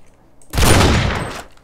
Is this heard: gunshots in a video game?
yes